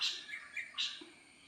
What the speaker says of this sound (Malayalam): കുറേ കിളികളുണ്ട് കേട്ടോ